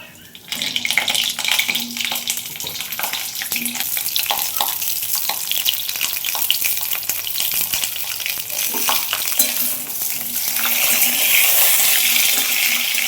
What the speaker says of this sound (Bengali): ওই জন্য আমি আগে একটু ভেজে নিচ্ছি হালকা করে